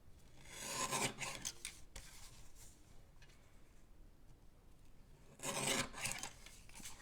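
A guillotine paper trimmer slices through card, giving two quiet, rasping scrapes of the blade a few seconds apart, close by and faint, with soft rubbing between them.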